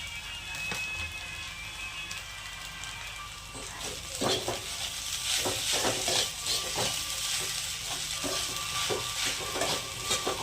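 Sabudana khichdi frying in a pan as salt is stirred through it, a steady close sizzle with scraping stir strokes and light utensil clicks running throughout.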